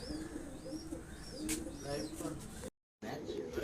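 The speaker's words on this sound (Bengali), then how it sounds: "এই যে 31টা পায়রা আমাদের ছেড়ে দিয়েছি" Pigeons cooing and calling near a loft as a flock of 31 racing pigeons is released for a summer flying contest, with someone talking over the birds and a brief dropout near the end.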